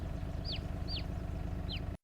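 Baby chick in Farming Simulator 22 gives three short high chirps, evenly spaced, over a steady low farm and engine hum.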